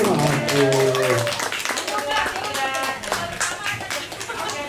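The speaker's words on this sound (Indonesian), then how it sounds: "berikan aplaus dong buat panitia dong" An audience at a retirement farewell event at a resort in Sentul, Bogor, claps in a dense burst of applause, with a voice speaking at the start and the clapping fading slightly as it goes on.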